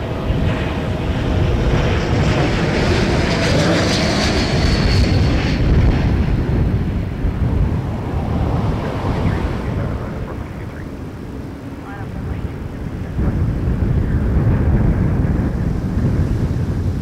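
Porter airliner, flight 420 from Winnipeg, landing at Toronto Pearson Airport in rising wind: a loud, continuous jet roar fills the whole stretch, swelling and easing slightly with gusty noise.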